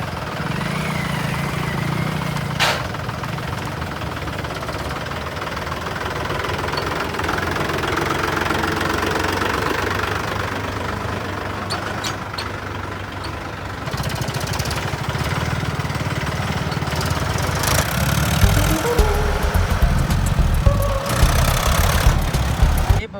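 A tractor engine runs steadily with a low knocking chug, close and loud throughout, with some clattering bursts near the end.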